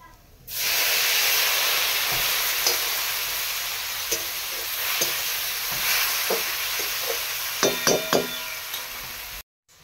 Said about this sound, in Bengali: এগুলো এখন একটু জল দিয়ে ভালো করে ভাজবো, নাহলে গাজর আর বিনসটা কাঁচা থেকে যাবে।